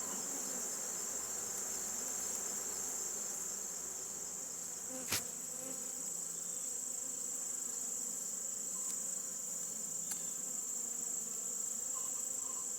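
Honeybees drone steadily in an open hive during fall re-queening, a continuous close hum with a brief sharp tap partway through.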